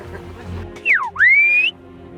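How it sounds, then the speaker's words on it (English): A person whistles a name in a traditional whistled language, two sharp, gliding notes, one falling and one rising, clear and close against a quiet background. "Some even speak the old whistled language."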